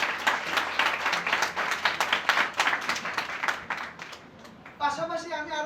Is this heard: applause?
yes